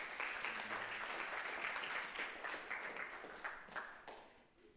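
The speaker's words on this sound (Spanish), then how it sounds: "Dele un aplauso al Señor." A church congregation claps together in a sustained round of applause during a Sunday service, slowly fading out near the end.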